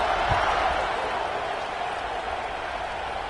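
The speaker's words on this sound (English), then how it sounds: "this crowd is buzzing after that last score" A stadium crowd in the College Football 26 video game buzzes after a score, a steady, even roar of noise with no distinct cheers, holding at a constant level throughout.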